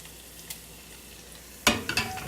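Bacon fat, Squash Hollow Farm bacon being rendered for a wilted spinach salad, crackles faintly in a pan, then bursts into loud sizzling with sharp spitting pops near the end, with no talk.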